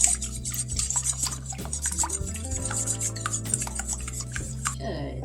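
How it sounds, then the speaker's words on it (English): Eggs whisked in a bowl for a ground turkey quiche, a rapid continuous scraping and clinking of metal against the bowl, close and steady with no talk. "Now let's whisk these eggs."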